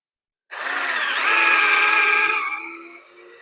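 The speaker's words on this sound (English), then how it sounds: "drill a hole all the way in through the wood." A power drill bores a hole through wood for a raised garden bed, starting abruptly after a brief silence with a loud, steady whine that strains and shifts pitch mid-hole, then eases off toward the end.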